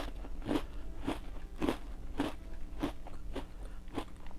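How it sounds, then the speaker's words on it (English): Sharp, crisp crunches from biting into an Oreo cookie, about eight close bites spaced roughly half a second apart, each with a brief crackly break, with no talking. "I think I'm just going to eat an Oreo because these smell so good."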